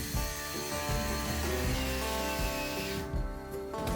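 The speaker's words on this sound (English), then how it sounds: "all I need is one cut to this piece" A metal piece for a CR-V bash plate is cut with a power tool, a steady, loud whining grind with humming tones that runs the whole time and thins out near the end.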